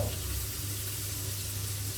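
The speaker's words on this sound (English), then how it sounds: "Add your 1 raw egg, but don't stir it in. Just let it fry until firm" A raw egg fries in a pan with Tom Yum noodles for Pad Mama Tom Yum Goong, giving a steady, close, even sizzle with no speech.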